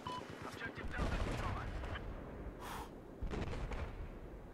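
Gunfire crossfire in the video game Battlefield 4, dense bursts of shots and impacts coming from several directions, loud and continuous over low rumbling battle noise, with a player's voice breaking in.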